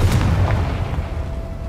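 A Confringo fire spell explodes in Hogwarts Legacy with a loud, close boom that quickly fades into a low rumbling tail.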